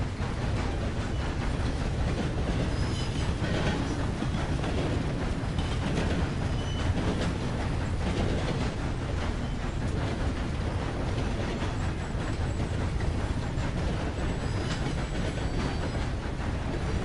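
A steam locomotive runs on rails in Red Dead Redemption 2, filling the scene with a continuous loud rumble and rattling wheel clatter that stays steady throughout, with no voices over it.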